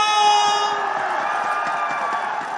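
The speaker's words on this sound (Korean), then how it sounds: "이재명 후보를 뜨거운 함성으로 맞이해 주시길 바랍니다" Large crowd cheering and shouting at a presidential campaign rally in Gumi, South Korea, a dense continuous roar with horn-like tones, loud and steady throughout.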